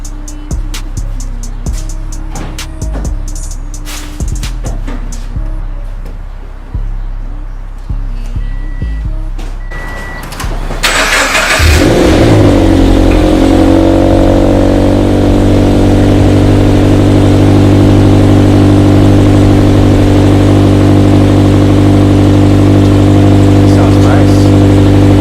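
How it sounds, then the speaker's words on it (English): A Toyota 86/Subaru BRZ engine with a GReddy SP Elite aftermarket exhaust idles with a rumbling burble, then revs hard to a loud, sustained roar with a deep, throaty exhaust note that holds steady. "Now let's see how it sounds with the new exhaust."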